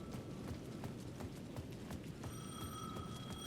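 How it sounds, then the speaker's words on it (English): A payphone at the edge of a plaza in the video game Alan Wake 2, ringing faintly with a bell-like tone that starts partway through over steady rain and footsteps. "The payphone at the edge of the plaza was ringing again."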